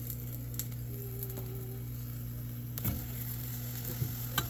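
Spinach sizzles in a hot pan as it is stirred, a soft continuous frying hiss with occasional faint scrapes and taps of the utensil, close and quiet with no talking.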